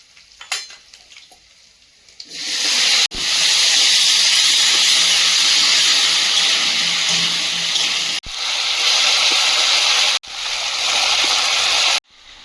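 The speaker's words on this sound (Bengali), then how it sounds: "জিরে আর কাঁচা লঙ্কা ফোড়ন দিয়ে তরকারিটা বসিয়ে দিচ্ছি" Green chilli and cumin tempering gives way to a curry set on to cook, sending up a loud, sustained frying sizzle and hiss that cuts off briefly a few times and then resumes.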